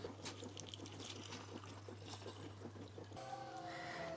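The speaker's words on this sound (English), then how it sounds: "You can just pour this straight over the pork" Liquid poured straight over slow-cooked pork belly, a steady close trickle and splash running for about three seconds over a constant low hum, then giving way to a brighter tonal sound near the end.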